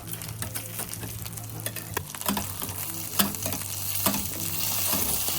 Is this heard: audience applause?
no